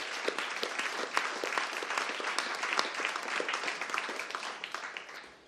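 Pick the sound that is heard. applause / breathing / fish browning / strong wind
applause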